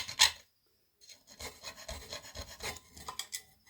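A metal scribe scratches a line onto steel while rear cab mounts are fabricated for a Holden One Tonner cab swap. Several close, raspy strokes follow one short sharp scrape, with no talk.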